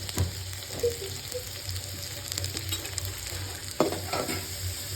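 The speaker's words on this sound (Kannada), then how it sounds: "ಎಣ್ಣೆ ಕಾಯ್ತಾ ಇದೆ, ಕಾದಿದೆ. ಇವಾಗ ಅದಕ್ಕೆ ಆನಿಯನ್ ಹಾಕ್ಕೊಳ್ಳೋಣ. ಆನಿಯನ್ ಹಾಕ್ತಾ ಇದ್ದೀನಿ." Onions frying in hot oil in a home kitchen for egg rice, a steady close sizzle with occasional stirring scrapes and clinks, no talking.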